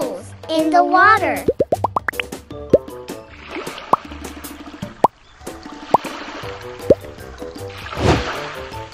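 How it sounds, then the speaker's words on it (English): Cartoon bubble pops in water, a quick run of bright rising plops followed by several spaced single pops, under a voice speaking and playful music. "Pop the bubbles in the water."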